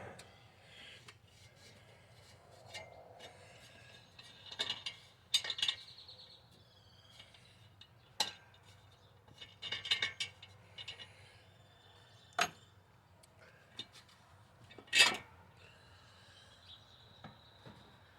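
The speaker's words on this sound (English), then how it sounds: "So I'm gonna get this air cleaner off of here." Metal parts clink and scrape as an air cleaner is taken off a carburetor during a throttle linkage setup, sparse close taps and rattles over quiet garage background.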